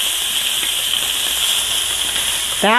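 Scallops sear in a hot pan with a steady, bright hiss and sizzle that holds evenly, ending with a brief clatter near the close.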